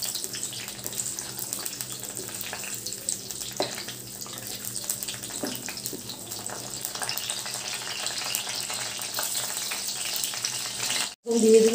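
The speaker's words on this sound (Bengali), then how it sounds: "ঘি দিয়ে দিলাম এই 1টা তেজপাতা, আর এখানে যে 8টা কাঁচা লঙ্কা এরকম পিস করে নিয়েছি কাঁচা লঙ্কাটা দিয়ে দিলাম।" Green chillies and a bay leaf frying in ghee while being stirred, giving a steady, even sizzle close by with occasional soft clicks of the spoon.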